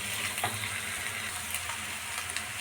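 Sliced onions sauté in a pan for Kerala-style chicken curry, giving a soft, steady low sizzle with faint stirring, fairly quiet and continuous.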